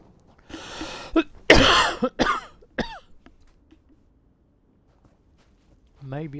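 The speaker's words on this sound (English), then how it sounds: "I'm sorry about my cough" A man coughs several times in a short burst, harsh and close, with a throat-clearing sound and faint footsteps, then quiet and a brief voice at the end.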